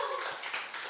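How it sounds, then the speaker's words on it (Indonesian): A short, dense burst of clapping from a small group on a football talk show, congratulating the team, steady and fairly close for about a second. "tepuk tangan dulu buat kalian"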